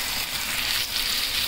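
Spinach paste hits lightly browned fried onions in a hot pan, giving a loud, steady close-up sizzle that continues without a break.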